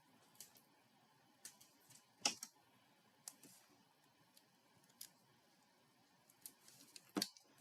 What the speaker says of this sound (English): Let's cut another little piece.